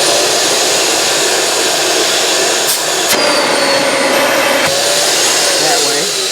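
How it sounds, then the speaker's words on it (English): Built-in vacuum of a 2023 Salem Villa 353FLFB RV running, a loud steady whooshing roar that continues throughout with faint clicks and a voice briefly audible beneath it. "This, of course, is your vacuum."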